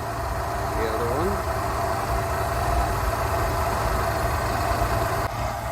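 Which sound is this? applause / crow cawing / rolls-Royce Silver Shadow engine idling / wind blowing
rolls-Royce Silver Shadow engine idling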